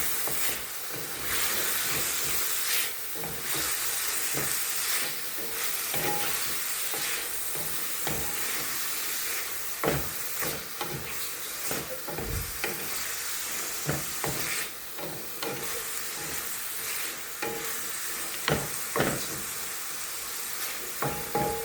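Bitter gourd frying in a pan with salt and a pinch of turmeric, a steady close sizzle and hiss broken by repeated scraping and clacking of a spatula stirring the pieces throughout.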